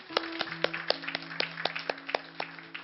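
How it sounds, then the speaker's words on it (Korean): Small church congregation clapping in thanks during a worship service, a dozen or so sharp, fairly even claps over about three seconds, with a sustained organ or keyboard chord underneath. "우리 하나님께 감사의 박수를 드리겠습니다"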